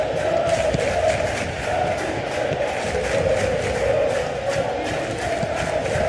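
Stadium crowd from the football video game PES 2021 during a Barcelona vs Celta Vigo match, a steady dense roar of cheering and chanting that runs loud and unbroken throughout.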